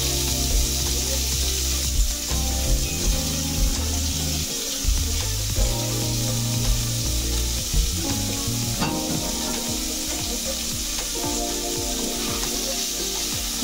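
Small cubes of large onion fry in oil with loud, continuous sizzling, while repeated scraping stir strokes sound close by throughout and nobody speaks.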